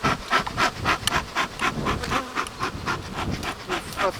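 At an open hive of a young honeybee swarm, bees buzz steadily and close, with pulsing waves of droning wingbeats throughout.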